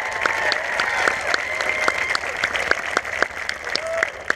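A high school band preview show audience claps steadily throughout, dense applause with a few louder individual claps standing out, moderately close and with no clear talk.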